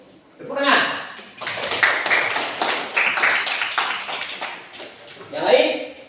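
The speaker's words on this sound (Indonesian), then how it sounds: "Tepuk tangan." Classroom applause: a roomful of hands clapping in a choppy, uneven rhythm for several seconds, fairly close, with voices briefly heard at the start and end.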